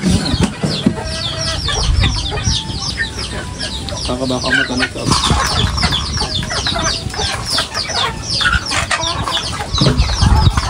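A flock of chickens clucks and squawks busily nearby, a steady barnyard chatter, while a person speaks briefly over them.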